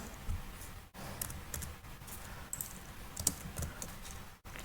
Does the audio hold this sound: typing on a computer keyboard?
yes